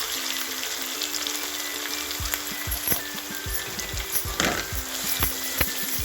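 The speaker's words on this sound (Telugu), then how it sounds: "ఈ అల్లం వెల్లి పేస్ట్ కొంచెం పచ్చివాసన వరకు ఫ్రై చేసి ఇందులోనే పసుపు వేసి" Ginger garlic paste with turmeric fries in a pan for a tindora masala curry, a low, steady sizzle broken by knocks and scrapes of a utensil, with no voices.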